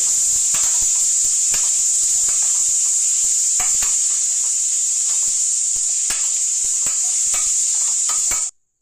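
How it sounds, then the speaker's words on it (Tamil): Tomatoes sautéing in a pan for goat liver curry: a steady bright hiss of frying runs throughout, with scattered clicks and stirring scrapes from a utensil, close and fairly loud, ending abruptly. "தக்காளியும் நல்லா வதங்கிட்டு."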